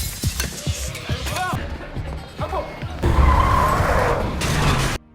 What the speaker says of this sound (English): a truck comes and crashes into a police car